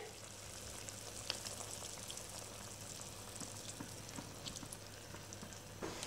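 Mutton karahi simmering in its sauce in a pan over a high flame, a quiet, steady bubbling sizzle with a faint low hum and occasional small pops, no one speaking.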